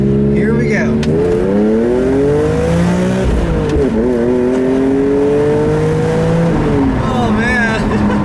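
A 2002 BMW M3 E46 with a manual gearbox and 3.2-litre inline six accelerates hard along a back road, its loud engine note climbing through the revs, briefly dropping at a shift, then rising again close to the microphone.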